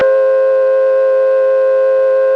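An old-fashioned payphone dial tone hums as a steady, loud, unbroken tone held for a couple of seconds with nothing else audible.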